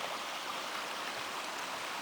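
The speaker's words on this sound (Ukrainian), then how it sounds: "Оце йдуть стоки з цукрового заводу, які падають в річку Сіп" Hot wastewater from a sugar factory pours steadily over a small dam into a river, a dense, continuous close-up rush of falling water that stays loud and even throughout, with no voices.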